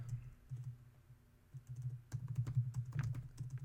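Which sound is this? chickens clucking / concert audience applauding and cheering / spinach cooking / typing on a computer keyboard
typing on a computer keyboard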